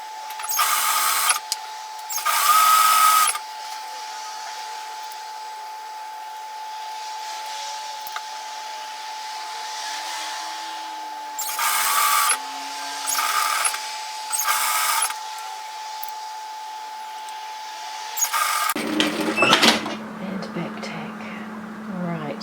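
A sewing machine runs in short stitching bursts while sewing a frilled apron, close and fairly loud, separated by quiet pauses over a steady hum, and ends in a longer rougher stretch.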